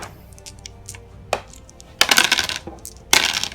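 Dice thrown onto a table during a tabletop wargame, two loud clattering bursts of rattling dice after a few smaller taps, close and with no voices.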